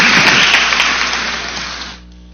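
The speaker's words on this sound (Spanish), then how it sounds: "Le damos un voto de aplauso a Jacobo" Audience applause at a forum on intercultural bilingual education, a dense wash of clapping that holds steady and then cuts off abruptly after about two seconds, with no voices over it.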